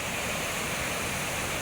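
Floodwater rushing over a road it has cut away, heavy rain having washed out the surface; a dense, steady roar of broadband water noise fills the whole moment with no gaps.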